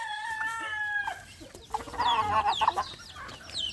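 Chickens being fed cluck close by, with a rooster-like drawn-out call first and then a flurry of overlapping clucks and squawks.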